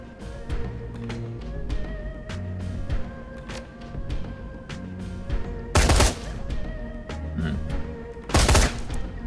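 Gunfire in the game Shadowrun: Hong Kong, several sharp shots and two loud heavy blasts over a steady game music loop with low rhythmic tones.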